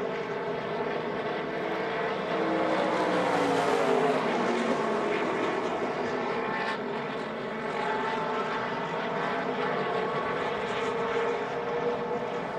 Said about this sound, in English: Sheldon cranked his engine up and just drove off